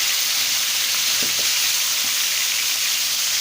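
Liver frying on a hot griddle at a street liver cart gives a steady, loud hiss of sizzling throughout, with a few soft clinks of stirring near the middle.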